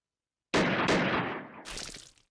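Gunshots in the video game Piofiore: two quick sharp bangs close together, then a third hit a moment later, each ringing out briefly in otherwise silence.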